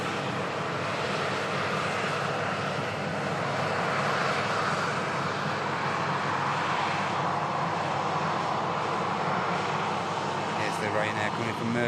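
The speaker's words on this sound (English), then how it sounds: "The Ryanair taxiing past" A Ryanair airliner taxis past with a steady, loud engine roar and broad rushing hiss that holds evenly for the whole stretch, swelling slightly mid-way.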